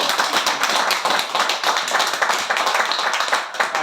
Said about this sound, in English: just want to give a big round of applause to Amanda's book.